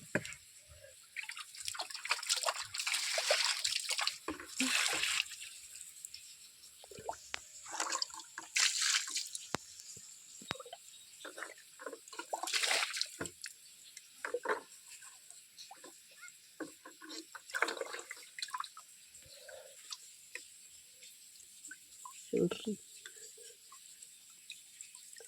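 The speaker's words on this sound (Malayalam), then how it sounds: "ഫസ്റ്റ് നമുക്ക് കുറച്ച് വെള്ളം കളയട്ടെ." Water is drained from a fish tank during cleaning, heard as faint, irregular trickles, drips and small splashes that come in bursts with quiet gaps between them.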